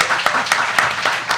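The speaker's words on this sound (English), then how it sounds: "Let's give her a round of applause." Brief audience applause for a panelist at a Black Food Summit design panel, with steady dense clapping and a few sharper individual claps standing out.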